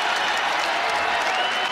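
A basketball arena crowd applauds in a dense, continuous wash of clapping with some cheering mixed in. It stays loud and even throughout and has no clear voice on top.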